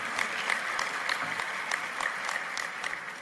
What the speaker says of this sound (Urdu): کچھ تالیاں آپ کے اپنے لیے کہ آپ آئے ہیں